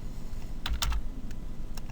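Fingers tap a computer keyboard while working in an Excel spreadsheet, a few close, crisp keystrokes including a firmer press of the Enter key, with steady background hum and no speech.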